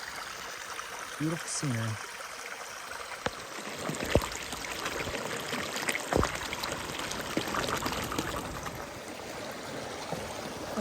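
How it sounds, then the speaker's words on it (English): A small Adirondack creek flows steadily beside a backpacking campsite where water is being filtered through a makeshift gravity system; a soft continuous trickle and wash fills the scene, with a brief voice and occasional faint knocks. "just over here by the creek, filtering some water"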